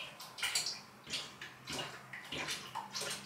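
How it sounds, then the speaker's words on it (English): Water splashes and gurgles into a washing machine drum as it fills in a home laundry room, soft uneven sloshing bursts heard faintly and close, with no talking. "I'm gonna put them in right now, even though the water's still filling."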